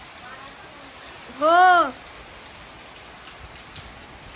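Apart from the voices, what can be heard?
heavy rain and wind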